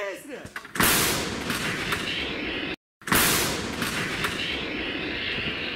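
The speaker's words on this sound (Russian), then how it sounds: "Внимание, выстрел!" Two powerful 152 mm artillery blasts go off a couple of seconds apart, each a sudden loud crack followed by a long rumbling decay.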